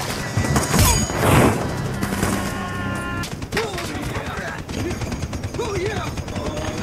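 Gunfire in a scene from the TV show The Boys: bursts of rapid shots and crashing impacts mixed with shouting voices and dramatic sound, with people talking over it.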